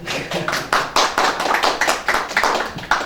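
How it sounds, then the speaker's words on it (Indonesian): A group claps for high-achieving students of SMA Negeri 7 Banjarmasin, with loud, close, uneven bursts of hand claps swelling and renewing for about three seconds. "Kita tepuk tangan sama-sama dulu ya."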